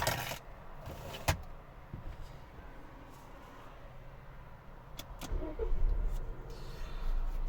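Volvo S90 with a 2.0 T5 petrol engine being unlocked and started, with clicks early on, then the engine catching near the end and settling into a low, steady idle rumble.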